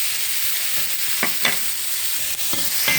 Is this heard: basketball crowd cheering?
no